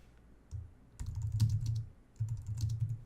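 Bursts of keyboard typing on a computer, short runs of quick clicky keystrokes with pauses between them, fairly close and alone without talk.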